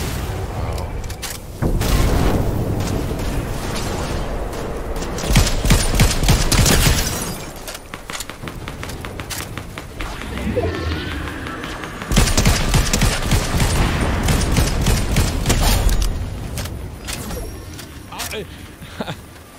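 Gunfire in a first-person shooter game comes in dense volleys and booms, mixed with ongoing game noise and someone talking throughout.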